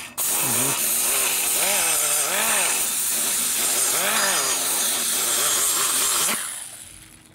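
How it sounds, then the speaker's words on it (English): High-RPM rotary cutter grinding a 2000 Harley-Davidson FXR Evolution 80ci engine case near the cam bearing, a loud continuous harsh grinding whine that rises and falls in pitch as it works, close, then cutting off near the end. "I'm going to see this cutter will actually go around the back side over here"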